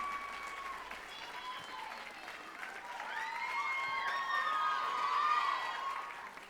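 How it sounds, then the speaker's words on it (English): An audience at a Rhapsody Rotorua concert applauds the festival strings with steady, moderately distant clapping and scattered cheers and whoops that build toward the end. "A big round of applause"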